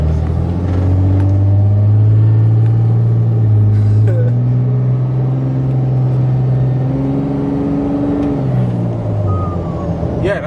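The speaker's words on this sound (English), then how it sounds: "Yeah, it's turbo sound, man." A heavily armoured, bullet-proof Dodge Ram 2500 accelerates, its engine drone rising and falling with turbo whine, loud and close from inside the cab as people talk over it.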